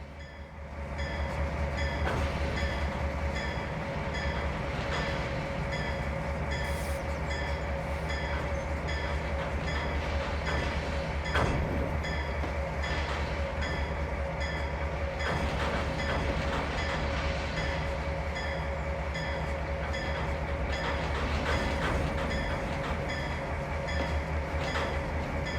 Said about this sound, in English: give it a little throttle to move the train slowly through the